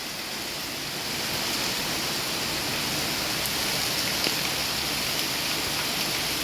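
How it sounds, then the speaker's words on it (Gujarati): Heavy monsoon rain in Rajkot pours down steadily in a constant, dense hiss with no pauses or voices. "જોરદાર વરસાદ"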